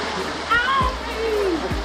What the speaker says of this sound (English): It's like a flowing water.